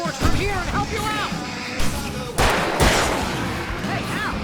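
Gunfire while fighting off enemies in the video game Alan Wake Remastered: a few sharp shots cracking out amid shouting voices and chaotic background noise.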